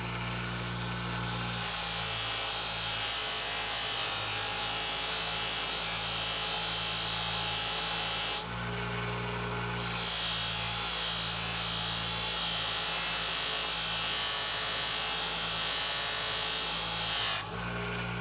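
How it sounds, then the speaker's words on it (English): Motorized buffer polishing a two-blade broadhead with compound: a loud, steady droning whir that runs continuously, with brief surges in intensity as the blade is worked against the wheel. "Now I'm going to start buffing"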